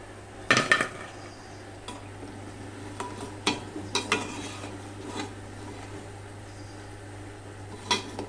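Idli batter bondas are lifted out of hot frying oil, with a quiet sizzle underneath and scattered clinks and scrapes of a spoon against the pan, a few sharper knocks standing out.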